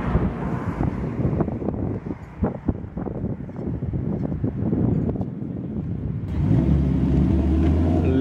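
A Lexus IS F pulls up at an outdoor tuning-shop picnic, its low engine rumble growing steadier and louder near the end beneath heavy gusting wind noise.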